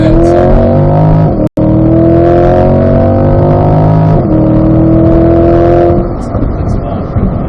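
A car with a dual-clutch transmission accelerates hard, engine note climbing then dropping sharply at each quick gear change, close and loud inside the cabin, with a brief cut near the start.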